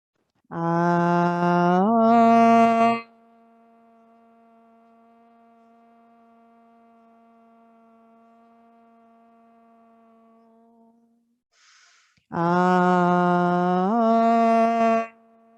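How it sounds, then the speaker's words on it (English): A group chants three long oms together at the close of a vinyasa power yoga class, with one steady drawn-out tone in the middle and a clear pause between. "We'll complete our practice with 3 final ohms."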